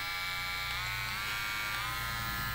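A Kemei 5027 electric hair clipper runs at high speed, a steady, faint, even buzz from start to finish with no voices.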